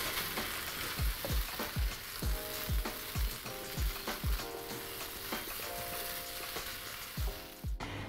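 Fried rice tossed in a hot pan, a steady sizzle broken by rhythmic scraping thumps of the spatula and pan, close and fairly quiet.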